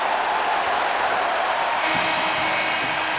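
Basketball arena crowd at Wisconsin cheering the Badgers' defense early in the second half against Maryland, a dense continuous roar of cheers and applause throughout.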